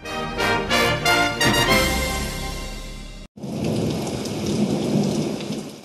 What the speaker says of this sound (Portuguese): As chuvas chegaram